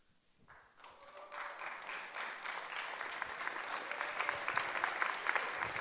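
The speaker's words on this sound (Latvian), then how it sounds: "Un ar ovācijām mēs sagaidām nevienu citu kā Kristīni Šomasi." Audience ovation at an awards event, applause swelling up from near silence into sustained, fairly distant clapping from a large crowd.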